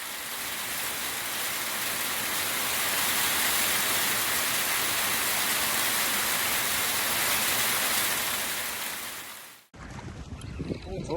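Steady rain and wind roar outdoors in the Scottish Highlands during Storm Eowyn, a dense continuous wash that cuts out abruptly near the end, followed by quieter gusty noise.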